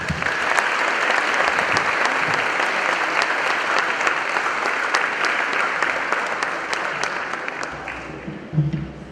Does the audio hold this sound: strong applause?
yes